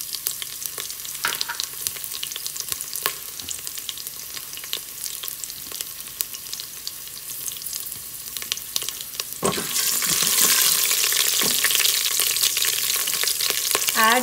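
Urad dal, chana dal, curry leaves and green chilies fry in hot oil for a masala dosa filling, a steady crackling sizzle with sharp pops and spatula taps that swells louder and hissier near the end.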